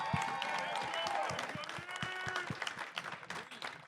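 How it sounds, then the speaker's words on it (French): Fairly faint applause from a crowd at the Festilan 2024 closing ceremony, mixed with cheering voices and some speech, tapering off at the end. "vous méritez aussi une bonne main d'applaudissement"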